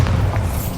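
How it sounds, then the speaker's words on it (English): Bombarda explosion spell going off in the video game Hogwarts Legacy, a short, loud, deep boom that fills the whole moment without letting up. "Bombarda."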